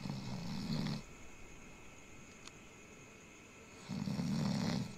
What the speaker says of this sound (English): Who's snoring like that?